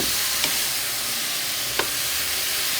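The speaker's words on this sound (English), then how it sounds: "I'm gonna pour it out and stir fry the noodle" Noodles with broccoli, shrimp and chicken sizzle steadily while being stir-fried in a pan, a constant hissing fry broken by two sharp utensil clicks against the cookware.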